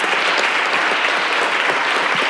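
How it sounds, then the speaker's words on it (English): A packed council meeting chamber erupts in dense, continuous applause, a loud even wash of many hands clapping with no break and no speech over it. "Let's give them a round of applause if we can."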